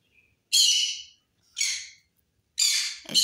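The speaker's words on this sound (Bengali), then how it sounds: "এই হলো গ্রিন চিকুন। এরা খাবারের জন্য ডাকাডাকি করতেছে।" Green-cheeked conures in an aviary let out three loud, harsh squawks, each about half a second long and spaced roughly a second apart, sharp and close against near silence.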